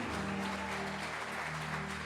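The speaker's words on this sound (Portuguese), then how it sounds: "Aplauda ao Senhor em nome de Jesus." A church congregation applauds during a lively worship service, a steady wash of clapping mixed with sustained musical tones underneath.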